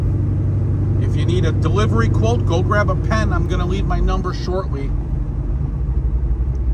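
A 1970 Chevrolet Chevelle driving, its steady engine rumble and road drone running underneath continuous close-up talk from a man inside.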